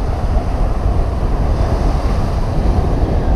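Ocean surf breaks steadily at a beach, a loud continuous wash of rolling waves with heavy wind buffeting the microphone.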